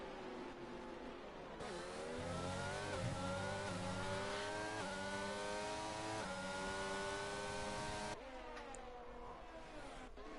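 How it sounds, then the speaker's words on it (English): F1 race cars in a sim racing game at Portugal, a tight pack of engines revving and whining loudly through gear changes for about ten seconds, with layered overlapping engine tones and no talk. "So a tight pack of cars battling for P4"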